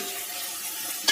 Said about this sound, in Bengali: এগুলো একটু ভালো করে নাড়াচাড়া হবে, মশলাটা ভাজা হয়ে যাবে।